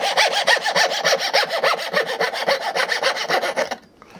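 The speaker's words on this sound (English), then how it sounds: "I'm going to take a coping saw." A coping saw cuts through wood for a center keyed box joint in steady, rapid back-and-forth rasping strokes, loud and close, stopping abruptly near the end.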